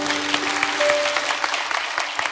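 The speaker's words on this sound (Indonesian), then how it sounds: "Beri tepuk tangan untuk Tuhan Yesus." A church congregation claps steadily and densely for a couple of seconds during a sermon, a full room of continuous applause with no voices standing out.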